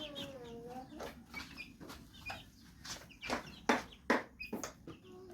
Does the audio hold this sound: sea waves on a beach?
no